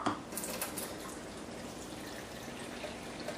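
Water runs from a tap while rice is rinsed in a strainer, a soft, steady splashing trickle heard close up with no talking.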